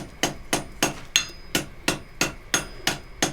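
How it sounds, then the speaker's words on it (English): A blacksmith forge welding a chain link strikes it with a hammer on the anvil in a steady, evenly spaced series of about ten sharp, ringing blows, close and clear with no talk. "And now we weld the link together."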